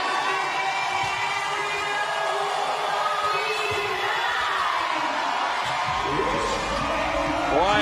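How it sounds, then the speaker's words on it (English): A packed Alliant Energy Center Coliseum crowd roars during a team relay event at the 2018 CrossFit Games. A dense, loud wall of cheering and shouting swells toward the end, with an announcer's voice partly over it. "Crowd rises to their feet in a packed Alliant Energy Center Coliseum."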